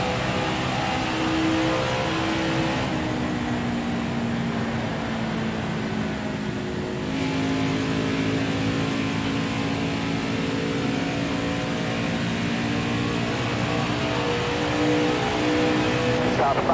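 Race cars lapping in the NASCAR Heat 4 racing game, XFINITY series, with a steady engine whine that rises and falls in pitch as the car moves through turns, continuous and fairly loud, with a spotter voice faintly in the background.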